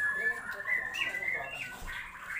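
A white-rumped shama (murai batu) gives bright, whistled chirps and warbling calls at moderate distance over a soft background hiss, with no voices.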